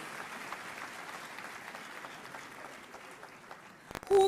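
Audience applause at a university vice-chancellor investiture ceremony, a steady soft patter of many hands clapping for several seconds, heard from a distance.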